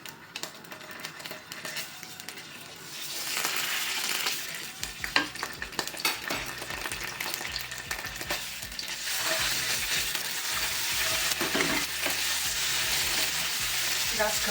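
A spoonful of tomato paste sautéing in hot oil in a pan for a green onion dish, starting with a quiet crackle, then a fuller sizzle with repeated scraping and stirring and some ticking clicks.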